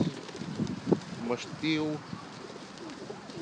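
Pigeons cooing in a town square, several soft rolling coos close by among other bird calls, with people talking nearby.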